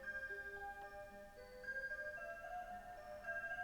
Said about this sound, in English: All right, ignore the clock.